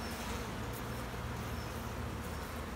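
A steady, fairly quiet drone of many honey bees crowds an open hive up close, continuous and even throughout with no voices.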